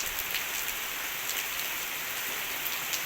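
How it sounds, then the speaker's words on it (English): Heavy rain pours steadily onto a courtyard, a dense, continuous hiss and patter close by with no gaps, loud and even throughout. "Look at that lovely, lovely rain"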